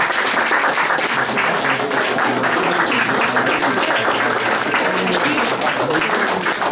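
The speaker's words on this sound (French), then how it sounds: "c'est Lisiane que vous applaudissez" An audience at a gallery poetry reading breaks into dense, continuous applause, many hands clapping loudly and steadily throughout.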